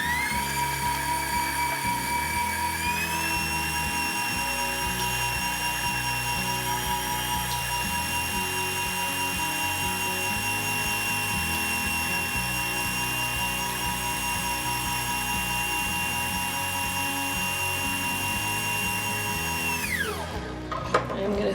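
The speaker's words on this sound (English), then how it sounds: "Now we're going to add the eggs one at a time and beating after" An electric mixer beats eggs into coconut cream cheese pound cake batter with a steady, loud, close motor whine. The whine shifts pitch early on, runs on without a break and cuts off near the end.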